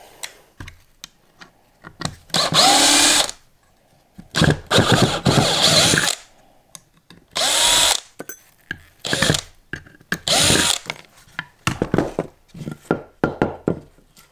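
Power drill boring a countersink recess for coach bolts into timber, following an earlier hole made on a pillar drill; loud close bursts of whirring drilling of a few seconds each, broken by short pauses and small clicks and knocks.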